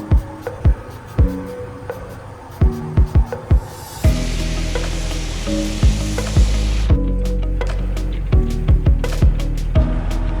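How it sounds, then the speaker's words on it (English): Wheel cleaner and foam sprayed onto car wheels, bursts of hissing spray starting around four seconds and running steadily, mixed with sharp clicks and taps from handling, close up with no voices. "I spray tire and wheel cleaner on before covering them in foam."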